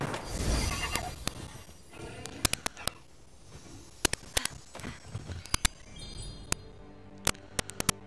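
Horse neighing and galloping in Immortals Fenyx Rising, a whinny near the start followed by rhythmic hoofbeats and sharp clip-clop hits, with faint game ambience underneath.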